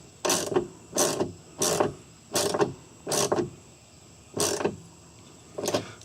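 An 8mm socket drives bolts into the threaded insert of a Volkswagen Jetta rear inner door. Seven short, close ratcheting bursts come in an uneven rhythm, with quiet gaps between them.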